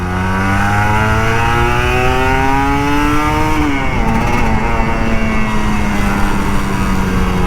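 A Kawasaki Ninja RR 150 two-stroke sport motorcycle engine revs loudly and continuously, pitch rising steadily, dipping briefly, then holding a high whine as it pulls away.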